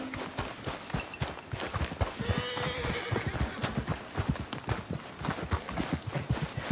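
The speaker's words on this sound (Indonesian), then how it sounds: "Ayo kuda, kenapa kau lari? Jangan lari please." Horse hooves gallop in a steady, quick clip-clop rhythm in the Red Dead Redemption 2 video game, moderately close and fairly quiet, with no talking over them.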